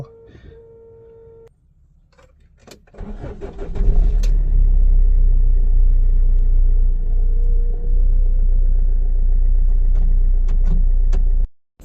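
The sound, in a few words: car engine starting and idling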